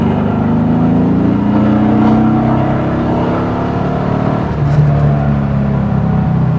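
A 1974 VW Beetle's air-cooled engine drones steadily on a test drive, pitch rising and falling gently as it pulls in second gear, loud and close from the cabin with road noise.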